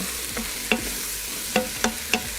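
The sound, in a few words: stirring steak with mushrooms and onions in pot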